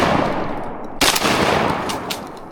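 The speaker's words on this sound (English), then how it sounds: "Shoot that greenhead." A shotgun fires during an outdoor duck hunt aimed at a greenhead mallard: one sharp, loud, close blast cuts through steady wind and background noise, with fainter echoes trailing after.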